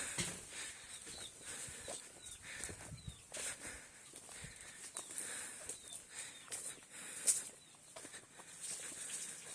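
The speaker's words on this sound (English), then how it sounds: "There's one hen trying to lay an egg." Faint hens clucking and cooing at a distance, with scattered soft scratching and rustling in an otherwise quiet outdoor setting.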